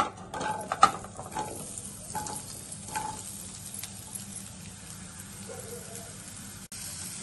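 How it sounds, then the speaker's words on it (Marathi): Onion sautéing in oil in a pan gives a steady, close sizzle under scattered spoon scrapes and clinks, with a continuous low hiss throughout. "त्यासाठी थोडंसं पॅन मध्ये तेल घालून घ्या। कांदा परतून घेऊया।"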